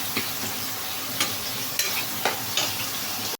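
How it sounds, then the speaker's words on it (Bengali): Spice paste with cauliflower and potato sizzles steadily and loudly in a hot pan, with a few soft scrapes from a spoon stirring through the constant frying hiss and no talking. "মশলাটাকে দিয়েও ভালো করে কষাতে হবে।"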